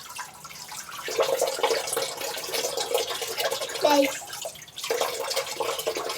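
Tap water runs steadily during dishwashing at home, a continuous close hiss that swells slightly midway, with a voice briefly speaking over it.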